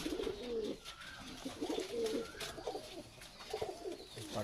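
Soft, low pigeon cooing repeats in short throaty phrases, close by, with light background noise and no talking.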